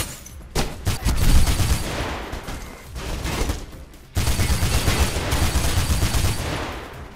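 Sustained bursts of rapid gunfire in the video game Mirror's Edge roar almost without pause, loud and dense, with a brief lull before the shooting resumes just as heavily.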